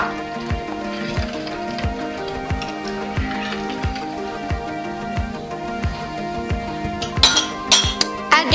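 A spoon clinks against a dish in a steady rhythm as cashew nuts, raisins and basmati rice are mixed for pilau rice, with faint sustained tones underneath.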